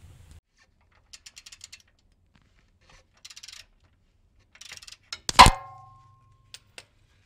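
Ratchet turning bolts while removing the transmission and power steering rack bracket on a 2002 Honda Odyssey: three short bursts of quick clicking, then a loud metallic clang that rings briefly, with a couple of faint taps after.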